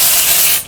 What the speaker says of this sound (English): So I'm going to spray my wadding.